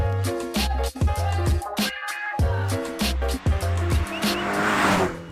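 A Porsche 944 sports car engine drones steadily while driving, revving up and down with brief dips between gears, loud and close throughout.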